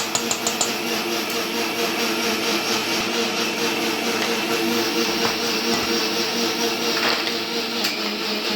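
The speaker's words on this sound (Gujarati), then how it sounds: "આનો બધાનું ગ્રાઇન્ડરમાં પીસી પછી જ્યુસ બનાવીને બતાવું છું" A mixer grinder whirs at high speed, blending beetroot and carrot for juice; a loud, steady motor drone holds throughout, close up and uninterrupted.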